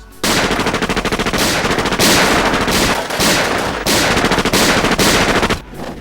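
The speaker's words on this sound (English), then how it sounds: "what starts out as mano a mano suddenly erupts into a shootout with over 30 gangsters" Loud, close bursts of rapid automatic gunfire in a film shootout scene against some thirty gangsters, several long rattling volleys separated by brief pauses.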